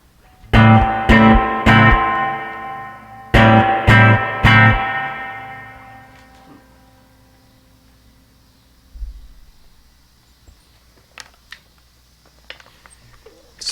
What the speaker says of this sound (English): Let's turn on the Princeton spring reverb and compare.